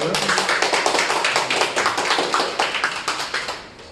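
An audience at a Korean election candidate interview claps after the candidate's wife speaks, a close burst of rapid applause that tapers off toward the end, with voices faintly beneath.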